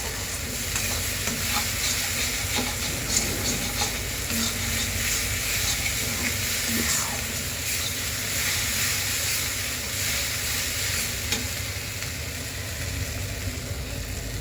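Spinach for palak paneer frying in a pan with a steady broadband sizzle and occasional stirring scrapes, continuous and close throughout, no voices.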